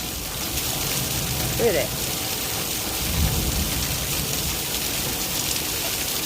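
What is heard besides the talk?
heavy rain in a thunderstorm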